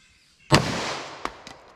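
A single sharp, loud 10mm pistol shot with a 180 gr XTP bullet fired into ballistic gel, followed by a decaying echo and a couple of fainter knocks.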